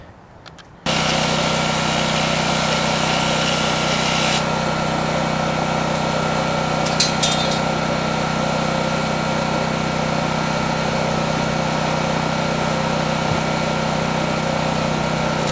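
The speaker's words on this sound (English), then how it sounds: "Ooh, quiet generator." A quiet generator starts up outdoors near a chicken pen and settles into a loud, steady, unbroken engine drone that runs for the rest of the stretch, with a faint metallic rattle in the middle.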